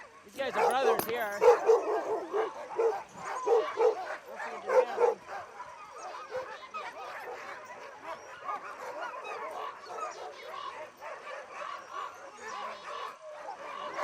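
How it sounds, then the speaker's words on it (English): Sled dogs bark and yip in a busy, overlapping chorus, loudest in the first few seconds, then settling into steadier mixed yelps and whimpers from several animals nearby, with voices mingled among them. "The typical sled dog team consists of 20 or fewer dogs and are all hooked together on a central line called a gang line."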